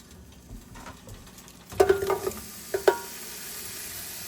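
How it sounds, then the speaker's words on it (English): Vegetables char in olive oil in a hot pan, a steady low sizzle running throughout, with a few sharper clatters of stirring and pan contact in the middle, close and unaccompanied by talk. "I'm going to add some olive oil to this pan. And I just want to char these vegetables."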